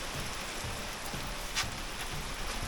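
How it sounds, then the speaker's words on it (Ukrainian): Heavy rain pours down steadily, a dense hiss of drops drumming on surfaces with no other sounds. "Вчасно прийшли, бо дощ пішов"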